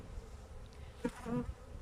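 Honey bees and drones in a hive with 14 frames, a faint, low buzzing hum with a brief louder drone passing near.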